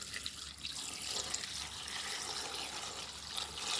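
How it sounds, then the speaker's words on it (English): Steady broadband rush of water running and splashing into a pot of sorrel for a Jamaican sorrel drink, continuous and fairly close, with no talking. "Then I'm going to add some water"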